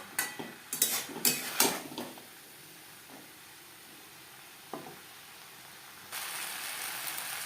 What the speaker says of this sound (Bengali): হাই টু মিডিয়াম ফ্লেমে 2-3 মিনিট নাড়াচাড়া করে নেব।